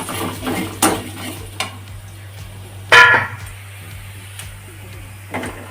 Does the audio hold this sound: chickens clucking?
no